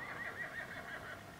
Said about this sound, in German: Das war ein Pferd.